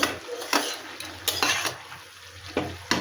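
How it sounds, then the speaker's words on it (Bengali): A spoon stirs mixed vegetables with fried lentil dumplings in a metal pot, with repeated scraping clinks against the pot and a soft sizzle underneath, close and fairly quiet. "এবারে একটু নাড়াচাড়া করে একটু ঢেকে দেব"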